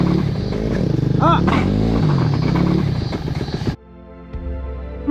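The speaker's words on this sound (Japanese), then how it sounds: "停止したものの、一速に入れたタイミングでウィリーしてしまった。" Motorcycle carrying two riders pulls up a steep uphill slope in first gear and lifts into a wheelie, engine loud and revving with clatter and shouting voices, then cutting off abruptly to a quieter background.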